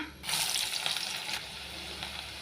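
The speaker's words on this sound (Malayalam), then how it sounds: "ഉലുവ ഒന്ന് ചെറുതായിട്ട് മൂത്ത് വരുമ്പോഴത്തേക്കും നമുക്കതിന് വേണ്ടുന്ന വെളുത്തുള്ളി ഇട്ട് കൊടുക്കാം." Garlic drops into coconut oil that already holds fenugreek seeds for a pomfret fish curry, and a bright sizzle bursts up, holds steady and then eases a little, with no talking.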